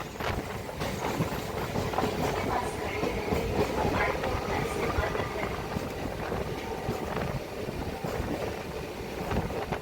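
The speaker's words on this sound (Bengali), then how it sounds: "ট্রেন এখন মেচেদা জংশন ঢুকছে।" A local train on the Kharagpur–Howrah line pulling into Mecheda Junction at night, with a continuous loud rumble and rattling wheel clatter heard from inside the carriage, and faint voices in the background.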